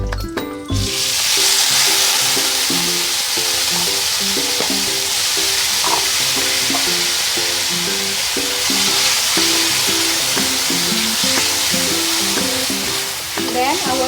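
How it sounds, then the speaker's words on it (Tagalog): Mushrooms frying in a pan for a vegetarian bok choy dish give a loud, steady sizzle that fills the whole stretch, with a faint melodic background underneath and no talking. "Now it's almost brown. We're going to add our mushroom."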